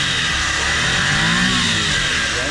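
Suzuki Every Wagon Samurai Edition engine revving under an open hood, a close, loud mid-pitched engine note that swells as the throttle rises and eases back, steady and alone with no talk.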